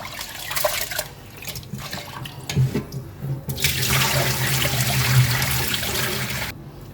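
Water runs and drains quickly while rice is rinsed in a bowl for idli batter, producing a steady rushing splash that swells louder toward the end, with no talk.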